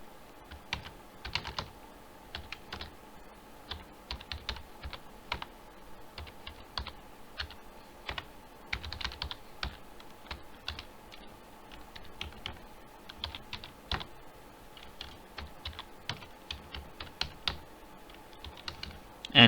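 Irregular clicking on a computer keyboard while Java code is typed, close and fairly quiet, with bursts of keystrokes broken by short pauses throughout.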